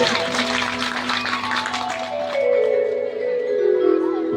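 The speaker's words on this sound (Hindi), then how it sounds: "जोरदार ताली होनी चाहिए।" Applause from the audience at a devotional bhajan gathering, loud and dense for about two seconds, then thinning as sustained musical tones take over.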